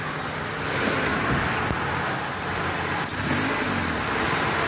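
A front-wheel-drive car with suspected bad motor mounts idles steadily while its transmission is shifted between drive and reverse, a continuous low engine hum with a brief faint clunk partway through.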